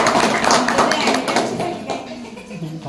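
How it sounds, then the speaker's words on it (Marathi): Audience at a school reunion get-together clapping for the couples who attended, a dense, steady patter of hands filling the room for a few seconds, fairly close and loud, with faint voices mixed in. "ज्या ज्या जोडीने आले त्यांच्यासाठी एकदा टाळ्या"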